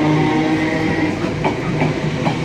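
A class 318 ScotRail electric train departs Motherwell station on the West Coast Main Line, a close steady rumble and hum with a few faint clicks of wheels over rail joints.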